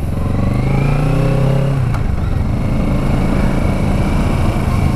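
A 2021 Kawasaki Z650 motorcycle engine drones steadily at speed on an expressway, with a brief rising rev early on, then constant road and engine roar with no talking.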